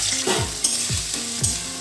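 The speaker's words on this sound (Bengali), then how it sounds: "প্রথমে আমি তরকারিটা তাড়াতাড়ি চাপিয়ে দেবো, এই আলুগুলোকে ভেজে নেব।" Potatoes fry in hot mustard oil in a wok, giving a steady loud sizzle broken by rhythmic scraping stirs about every half second, close up and without any voices.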